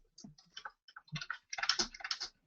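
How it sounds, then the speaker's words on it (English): A student types a response on a computer keyboard during a class session: scattered, quiet clicky keystrokes arrive in irregular bursts that grow denser toward the end. "while he's typing the response"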